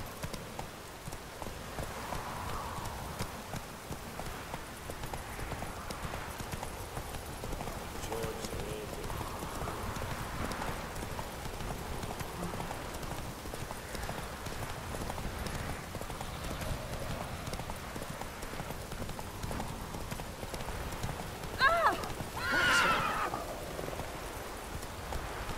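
Roach, a horse in The Witcher 3, gallops steadily with continuous hoof clip-clop under faint game ambience, a brief whinny near the end and occasional quiet speech.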